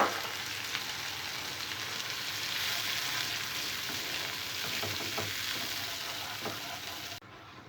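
Onion pieces frying in a pan for an aloo kurma potato curry, a steady close sizzle with occasional stirring scrapes, then an abrupt drop when yogurt is added near the end.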